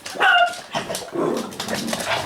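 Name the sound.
dog barking, wanting to come in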